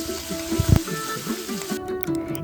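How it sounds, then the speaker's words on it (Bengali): Bay leaf, dry chilli and a ginger-cumin-green chilli paste sizzle in hot oil, already used for frying pointed gourd, for a Bengali doi potol posto; a steady crackling hiss with a brief louder burst of spatter early on, no talk. "তেজপাতা আর শুকনো লঙ্কা যেই তেলে পটল ভেজেছিলাম সেই একই তেলে এবার ফোড়ন দিয়ে নেব"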